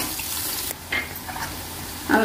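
Onions and green chillies frying in a pan, a soft steady sizzle with brief stirring scrapes, close and fairly quiet, no talking.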